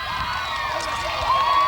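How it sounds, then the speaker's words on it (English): A big crowd at a 1995 Watertown versus Wakefield high school football game applauds and cheers, a steady distant roar of voices and whoops with an announcer talking over it. "And a big crowd, big applause from the Watertown crowd"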